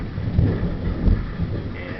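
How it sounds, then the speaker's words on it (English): Thunder rumbles low and heavy during a night rainstorm, swelling twice over a steady wash of rain and wind. "Yeah, there's thunder in the background."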